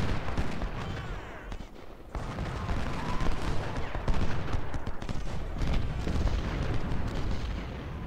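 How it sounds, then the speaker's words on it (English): Musket volleys and artillery in the Ultimate General: Civil War game, First Bull Run battle, a dense continuous crackle of massed gunfire with deep booms, loud and sustained throughout. "I just want one volley"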